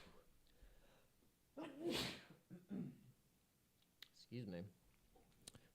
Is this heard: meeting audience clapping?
no